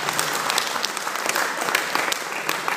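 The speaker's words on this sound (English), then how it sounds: "Let's give a round of applause to all the veterans we got in the house." A stand-up comedy crowd in a bank venue claps for military veterans in the room, a sustained, loud burst of applause with many hands and no voices over it.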